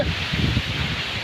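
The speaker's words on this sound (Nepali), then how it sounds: "मजा छ यस्तो हावा आइरहेछ" Wind blows near a waterfall in the hills of Taplejung, Nepal, making a continuous rushing, rustling noise that stays close and fairly loud, with no speech.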